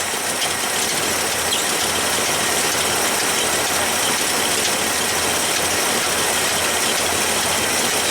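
A 1978 vehicle engine idles steadily right after its first start in two years, a constant close rumble with a faint rattle and a slight tapping from a plug misfire, no voices over it.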